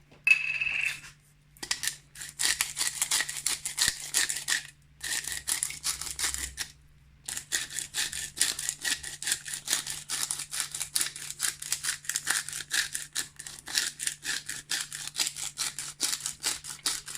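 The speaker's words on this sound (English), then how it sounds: "a very good grind of black pepper" A pepper mill grinds black pepper in rapid crackling bursts, close and crisp, several runs of dense gritty clicks separated by short pauses.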